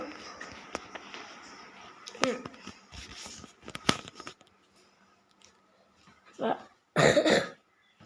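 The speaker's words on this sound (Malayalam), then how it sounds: "ചുമയാണ്" A couple of sharp coughs burst out near the end after a stretch of quiet rustling and scattered clicks, close and fairly loud.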